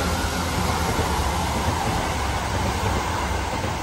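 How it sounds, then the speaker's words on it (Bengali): A train rumbles past close to a garden, producing a loud, steady wash of rolling noise that holds without a break and with no voices. "অনেক ট্রেনের শব্দ"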